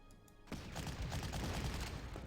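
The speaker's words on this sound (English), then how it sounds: "Have some perfectly good artillery to hit him with." Artillery fire in the WWII strategy game Panzer Corps: a sudden burst of booming shots after a quiet start, rolling into a dense, rumbling volley that sustains to the end.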